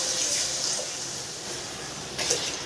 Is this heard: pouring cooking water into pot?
yes